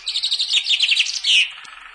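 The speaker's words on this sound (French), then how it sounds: "C'est un pinson." A chaffinch sings in a garden near a hedge and apple tree: a close, clear, bright run of rapid descending notes ending in a flourish, with near-silence underneath.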